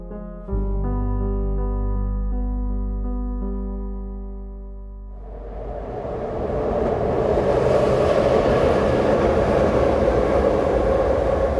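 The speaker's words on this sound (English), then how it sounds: "Kensington Avenue runs under an elevated train, they call it the L." An elevated train on the L above Kensington Avenue rumbles past, starting as a low steady drone under a tonal hum, then swelling into a loud broadband roar of wheels and cars that fills the second half.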